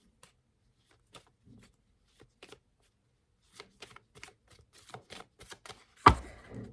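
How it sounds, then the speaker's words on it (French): Tarot cards being shuffled by hand, a sparse series of soft, quick riffling flicks close up in a quiet room, growing busier before a sharper handling thump at the end. "On va laisser de mélanger les cartes ici."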